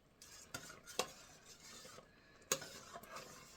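A spoon stirs a thick fudge mixture in a pot, giving soft scraping and dragging sounds punctuated by two sharper metallic clinks against the pan, close and fairly quiet, with no talking.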